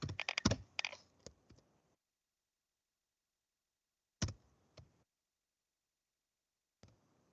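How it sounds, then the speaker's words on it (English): Typing on a computer keyboard: a quick burst of clattering keystrokes, then a few isolated key taps after long silent pauses, close and clear with no talking. "Why I'm typing like this?"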